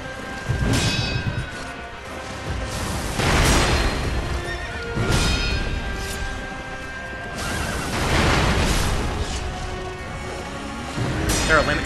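Horse neighs and whinnies in Sekiro: Shadows Die Twice, repeated several times at intervals over clip-clopping hooves and thuds, loud and close in the game mix.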